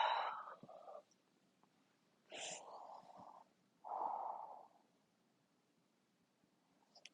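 Soft breathing during a yoga forward fold in a sleep-focused session: a quiet sniffing inhale followed by two slower, longer breaths, close and hushed, separated by near silence.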